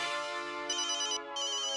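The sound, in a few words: phone ringtone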